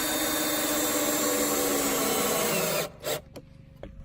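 A power tool whines steadily and loudly while backing bolts out of a toilet at an off-grid campsite, then cuts off into a few short bursts and quiet clanks.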